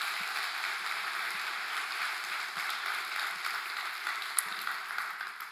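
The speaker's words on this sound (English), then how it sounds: "One more round of applause for that incredible video and the team behind it." A conference audience at a summit applauds in a continuous, even patter of many hands, somewhat distant and filtered, with a single sharper clap standing out near the end and no speech.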